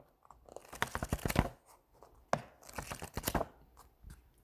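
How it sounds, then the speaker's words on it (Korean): Paper pages of a book being turned one after another, a series of close, crisp rustling flips with short pauses between them, heard alone without any talk. "책장 넘기는 소리였어요"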